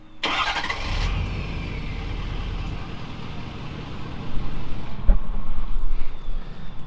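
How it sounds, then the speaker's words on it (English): A 6.7 Powerstroke diesel truck engine idles with a rough, low exhaust rumble after a brief clatter at the start, growing slightly louder near the end. "we really need to fix the sound of that exhaust"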